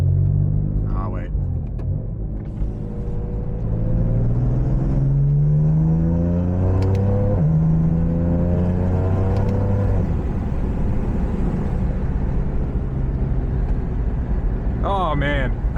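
A BMW F82 M4 drives along with a steady engine rumble and whir, with rising and falling revs as it shifts through gears, heard from inside the cabin while a person talks over it throughout.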